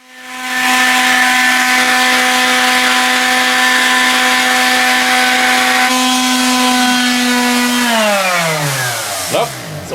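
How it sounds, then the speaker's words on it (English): An electric sander drones steadily on a prototype Gottlieb Jacks to Open pinball machine playfield, a loud, close whine that holds constant before spinning down toward the end. "let me show you the footage of us sanding the playfield down"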